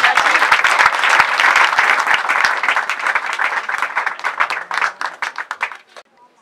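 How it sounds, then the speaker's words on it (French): Guests at a customary wedding burst into loud, dense applause that holds steady for several seconds, then thins into scattered individual claps and fades out near the end. "Sous vos acclamations, s'il vous plaît."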